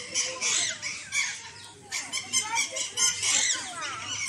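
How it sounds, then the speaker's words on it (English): A parrot squawks up close in a series of loud, harsh, shrill calls coming in irregular bursts with short gaps between them, with no talking. "This is what we call parrot."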